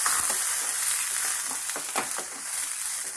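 Eight small garlic cloves sizzle in a pan of hot oil, a continuous close crackling hiss broken by light stirring scrapes and taps.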